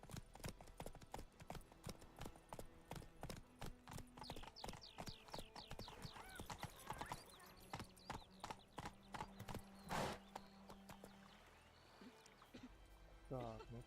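Roach the horse trots in The Witcher 3, hooves clip-clopping in a steady quick rhythm throughout, with a brief whinny, while game characters talk over it.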